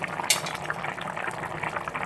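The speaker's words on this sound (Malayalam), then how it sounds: "നന്നായിട്ട് തിളയ്ക്കുന്നുണ്ട്." Chicken stew, Kerala style, bubbling in a pot with potatoes, a steady close hiss of boiling liquid with a faint clink of utensils near the start.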